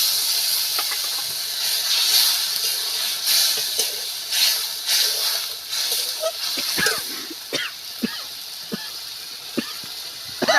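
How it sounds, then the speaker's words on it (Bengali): Water hits a hot pan of fried rohu fish and sizzles in a loud, broad hiss that persists, with crackling pops and spatters breaking through as it settles. "ভাজা হয়ে গেছে, এবার আমি জলটা দিয়ে দিচ্ছি।"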